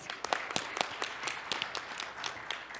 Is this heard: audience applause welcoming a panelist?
yes